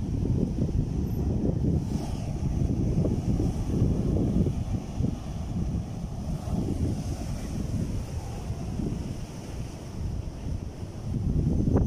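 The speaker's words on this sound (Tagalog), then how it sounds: "Ang ingay ng alon." Steady, dense rush of sea waves washing onto a beach shore, continuous and fairly loud with heavy wind buffeting the microphone throughout and no talking.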